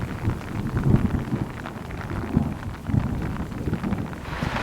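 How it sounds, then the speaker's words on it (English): Steady rain pours down with low rumbles of an afternoon mountain thunderstorm in Austria rolling underneath, a continuous storm wash with a few louder swells. "the weather turned into an afternoon thunderstorm"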